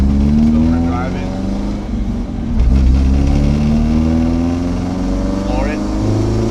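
An SR20-swapped Nissan 720 minitruck accelerates hard with a loud, steady engine drone whose pitch climbs and dips through gear changes, heard close from inside the cab.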